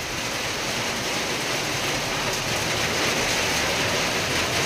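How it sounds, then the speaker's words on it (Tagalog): Heavy rain pours down in a dense, loud, unbroken roar, close by and without any voices. "Lakas ng ulan."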